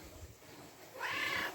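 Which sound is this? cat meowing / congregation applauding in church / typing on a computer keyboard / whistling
cat meowing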